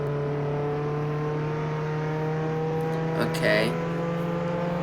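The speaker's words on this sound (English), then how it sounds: "The Ford Bronco in the game." A Ford Bronco off-road vehicle driving in the game Jailbreak: a steady, humming engine drone with strong sustained tones, near and even, with a brief bump around midway and a single short spoken word.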